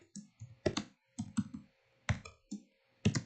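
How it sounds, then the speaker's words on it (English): Typing on a computer keyboard, close and clear, in irregular bursts of quick key clicks separated by short pauses, with no talking. "I'm like screwing up typing so bad."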